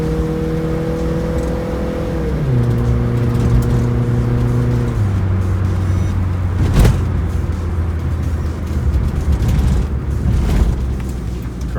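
A 1994 Mitsubishi Minica Toppo, a 660cc JDM kei car with an automatic, accelerates with a rising engine whine that drops as it shifts through gears, then settles into a steady drone with a couple of sharp knocks.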